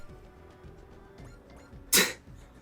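A single sharp sneeze bursts out near the end, loud and close, against a quiet background.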